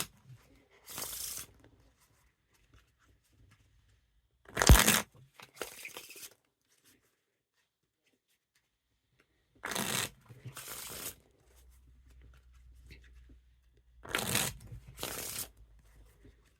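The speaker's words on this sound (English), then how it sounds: "Now time for the Wiffle Shuffle or Bridge Shuffle." Bicycle Boo Back playing cards riffle-shuffled and bridged in three separate bursts, each a crisp, close fluttering rattle of cards followed by a soft cascade, with quiet pauses between.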